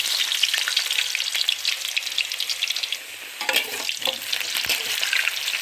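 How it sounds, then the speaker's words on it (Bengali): Steady crackling sizzle of potatoes frying in hot white oil, close and continuous, with occasional sharper pops and stirring scrapes. "তেলটা গরম হয়ে গেছে, আলুগুলো ভেজে নেব।"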